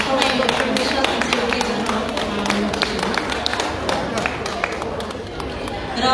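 An audience at a book launch during an Indigenous Peoples' Day event in Britain claps in dense, continuous applause across the whole stretch, with voices mixed into the crowd noise.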